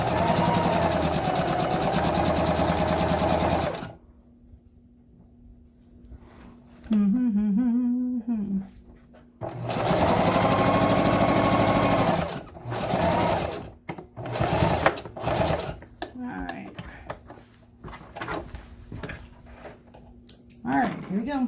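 A sewing machine back stitches a simple handbag in steady whirring bursts that start and stop, with a person speaking during the quiet gaps between runs.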